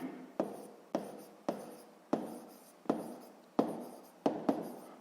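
Pen scratching across paper while working a sixth-grade maths exercise: about nine quick, sharp strokes in an uneven rhythm, each fading out briefly, close and clear with no talk.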